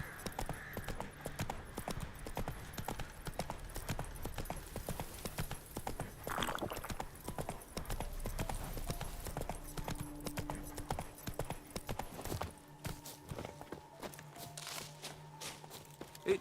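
A horse's hooves clip-clop steadily in a fantasy role-playing video game, a quick rhythmic beat of many close footfalls that goes on for about twelve seconds before the hoofbeats stop, with no voices.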